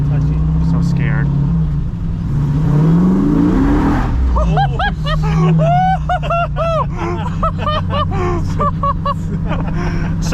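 A 1970 Dodge Challenger with a 392 SRT engine revs hard and accelerates, its loud rising roar continuous throughout, with people talking over the engine.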